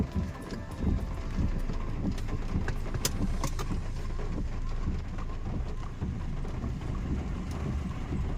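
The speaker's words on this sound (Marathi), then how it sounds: "वातावरण कसं झालंय, पाऊस सुरू आहे" Steady rain falls outdoors at a school during a flag-hoisting day, a dense, continuous hiss with scattered close drops and patters running through the whole stretch.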